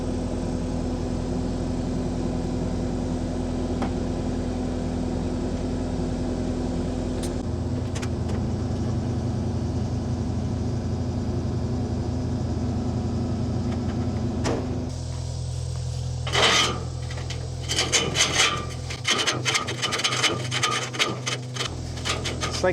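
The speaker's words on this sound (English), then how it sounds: "I'm gonna try to swing this bucket like right up against this frame and then use it to lift up." Tractor loader bucket lifting a metal carport frame out of the ground, with a steady engine drone throughout and scraping, rubbing metal noises and a few sharp clanks and knocks growing louder near the end.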